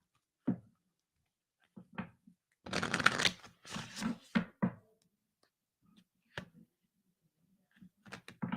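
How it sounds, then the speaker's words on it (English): A deck of cards being shuffled quietly, with a long riffle burst in the middle followed by scattered taps and soft card handling, close and faint with no talking. "let me just get the cards ready quietly"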